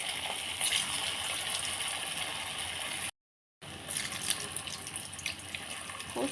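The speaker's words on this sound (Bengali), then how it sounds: "তেল গরম হয়ে গেছে, এখন আমি ছেড়ে দেব।" Potato balls dropped into hot cooking oil fry with a steady, dense bubbling hiss that continues throughout, briefly cut by a moment of silence before the sizzle resumes.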